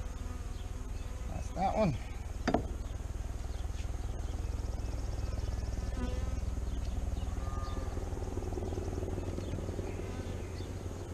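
Overwintered Saskatraz honeybees drone in a steady, dense buzz during a spring hive inspection, close and constant throughout, with a few brief spoken words and handling noises near the start.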